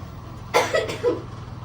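A single short, husky cough, close by, followed by a faint throat sound, over a low steady background hum.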